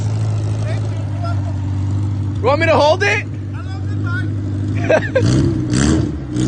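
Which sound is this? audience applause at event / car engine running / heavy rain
car engine running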